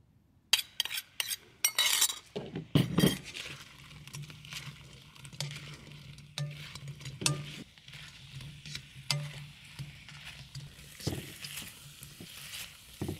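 Cauliflower is stir-fried with sauce in a hot wok, with a soft sizzle under repeated scraping and clinking of a utensil against the pan, fairly quiet and close.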